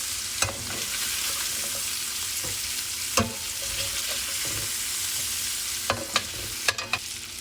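Shrimp sear in a hot pan over medium-high heat for creamy garlic shrimp: a steady, close sizzle with scattered clicks and scrapes of a utensil against the pan, no voices.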